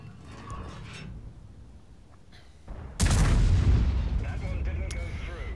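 A Grille 15 tank destroyer's gun fires HEAT rounds in World of Tanks: a single heavy blast sounds after a few seconds of low engine and battle ambience, then a rumbling decay mixed with clanks and whines.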